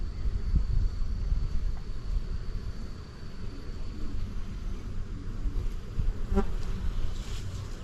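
A dense, steady buzz comes from honey bees swarming around an opened beehive as a brood frame is eased slowly out of the middle. The drone is close and continuous, with faint wind noise in the background.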